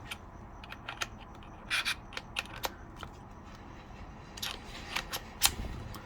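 An Ulanzi F38 camera quick release plate slides and locks into place, giving a series of sharp mechanical clicks and short scraping slides, close up, in irregular bursts with quiet pauses between.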